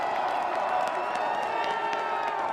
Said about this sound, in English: The crowd coming alive at Raymer Field in the biggest game in River Falls football history